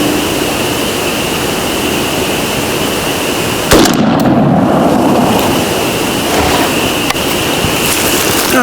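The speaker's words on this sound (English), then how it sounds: "That was the first shot, and that was pretty much right on." A single sharp shotgun blast, fired at the center of a target cross while sighting in a scope for turkey loads, cuts through a loud, steady wind-like rush outdoors. A faint click follows a few seconds later.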